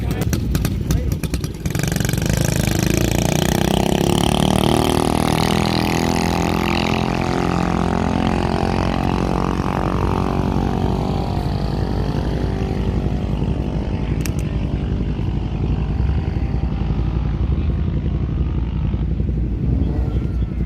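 A Duromax 208 mini bike engine with a 292 cam revs up loudly in a drag-race soft launch and climbs in pitch as it accelerates, a buzzing whine that fades and drops as it pulls away.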